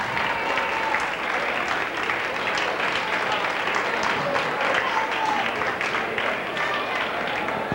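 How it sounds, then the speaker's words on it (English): A high school basketball crowd in a gym claps politely, a continuous, moderate patter of applause lasting several seconds, with faint crowd murmur and talking underneath. "There's a little polite applause."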